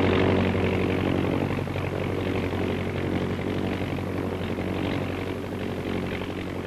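A propeller airplane engine drones loudly and steadily, a dense continuous roar with low throbbing, close by and without any voices.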